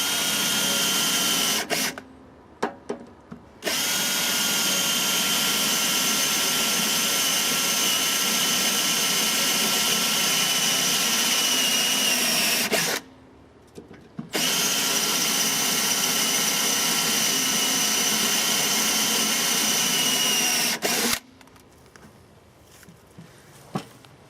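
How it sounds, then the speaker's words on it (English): Power drill boring holes for a bolt-on grab hook, a steady loud high whine running in long bursts with brief pauses between, no talking. "Start our hole, drilling our holes."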